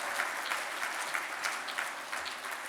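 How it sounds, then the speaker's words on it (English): A gala audience claps steadily in a dense, sustained round of applause that fills the room, with no voices on top. "I want a round of applause for this, a proper round of applause"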